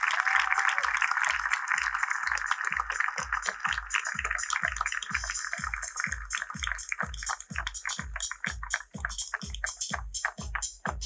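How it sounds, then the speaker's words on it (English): An audience applauds steadily at an award ceremony as a police commissioner is invited onto the stage, dense rhythmic clapping sustained throughout, loud and close. "Let's give a big round of applause as we request sir to come on the stage"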